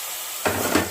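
Bean mash (shim bhorta) being stirred in a kadai on a gas stove, a soft scraping and sizzling stir that starts abruptly after a brief quiet moment and continues close and moderately loud.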